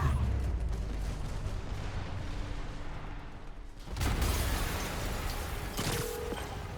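An explosion in the Spider-Man Remastered video game bursts out with a heavy, booming blast partway through, followed by rumbling debris and mechanical clatter over a low background drone.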